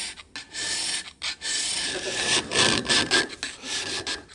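A stone inkstone being flattened by hand, rough rhythmic rasping strokes of stone rubbing back and forth, close and fairly loud, with brief pauses between passes.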